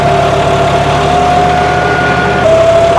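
A John Deere 5210 tractor in four-wheel drive runs steadily at about 1550 rpm, a loud close continuous diesel drone with a faint whine, and no talk.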